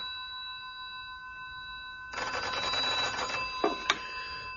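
An old-style telephone bell rings in a burst, with metallic clangs in a quiet room, clear and alone after a steady hum.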